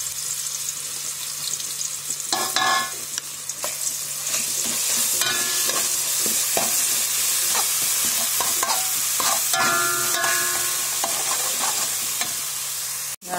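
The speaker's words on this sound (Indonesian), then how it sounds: "Bumbu kita tumis dengan 3 sendok minyak goreng." Spice paste sautéing in three spoonfuls of frying oil sizzles steadily and loudly, while a utensil scrapes and clinks against the pan at irregular intervals throughout.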